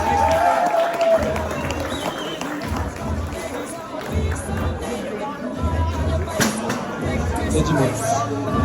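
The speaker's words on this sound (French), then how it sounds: "Allons l'applaudir très fort." Onlookers at the Oyster Cup 2025 in Les Sables d'Olonne clap and cheer for a finalist, a lively mix of applause and crowd chatter with a voice talking over it.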